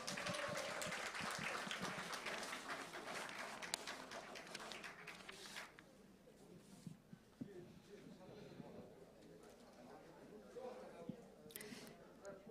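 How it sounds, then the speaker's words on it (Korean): An audience at a university's 45th anniversary ceremony claps in a dense burst for about five seconds, then the applause fades and a speaker's voice carries on over a quiet hall. "다시 한번 수고스러움에 큰 박수 한번 주십시오"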